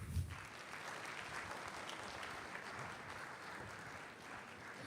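An audience at an entrepreneurship gathering keeps clapping in a steady, continuous wash of applause, moderately loud and even throughout with no voices rising above it.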